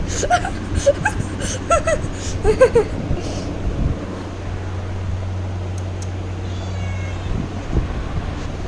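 A cat meows several times in a short plaintive series, fairly close, followed by a steady low hum with little else.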